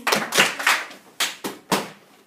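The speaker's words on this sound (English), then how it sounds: "If you're listening, clap twice" A classroom of students claps in response to a teacher's cue, giving a few sharp, loud group claps in quick succession, each one a distinct burst followed by a brief silence.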